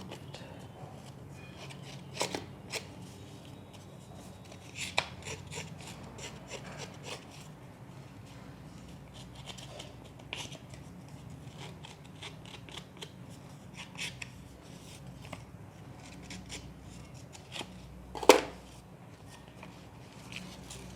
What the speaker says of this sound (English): distress the edges using the scissors